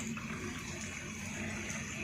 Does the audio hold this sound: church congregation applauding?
no